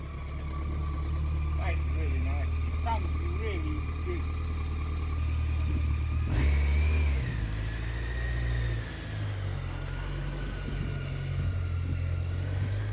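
A BMW motorcycle rumbles and revs as its buyer rides it away, a heavy low engine drone rising and swelling in bursts, with people talking over it.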